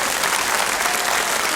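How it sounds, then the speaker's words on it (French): A studio audience at a 1988 French television show for young performers applauds three children with dense, steady clapping that stays at an even, loud level throughout. "On applaudit les 3 enfants"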